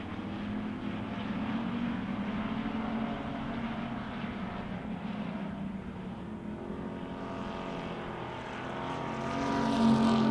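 Wissota pure stock race cars at a dirt track feature race, engines droning loudly in a continuous roar as the pack speeds into turn one, the pitch rising and falling and swelling near the end.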